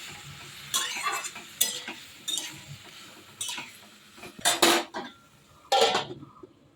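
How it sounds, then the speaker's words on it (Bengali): Potato and papaya frying in a pan while a metal spoon scrapes and clanks against it in several separate bursts, with quiet pauses between stirs. "জল দিয়ে ভালো করে আর একটু ভাজা ভাজা করে নিচ্ছি।"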